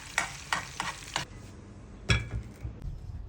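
A pan of tomato and eggs (dəngəşə) being stirred, with a spatula scraping and knocking several times in a quick rhythm, then a pause and a few more close strokes over a faint sizzle.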